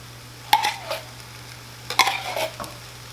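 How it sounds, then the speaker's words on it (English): A spoon stirs canned soup and milk into cooked vegetables in a pot over a low burner for a chicken pot pie, two short scraping strokes over a low steady hum, close and quiet. "I'm gonna mix all this in really good"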